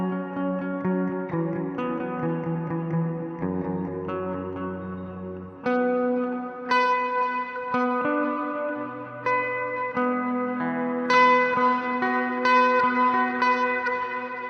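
Clean electric guitar chords and melody played through a compressor and a lush plate reverb on a Quad Cortex, sustained bright tones ringing out with a long wet, spacious tail, played alone without talk.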